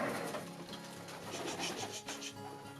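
Racing pigeons coo softly in a loft, with low repeated coos and faint rustling and shuffling of birds, quiet and close.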